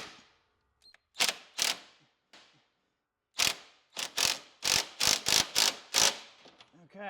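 Ratchet wrench with a 19 mm socket tightening a bolt while a transmission drive belt is fitted on a John Deere D140-series lawn tractor: bursts of clicking, one or two pulls, a pause, then a run of rapid close clicks.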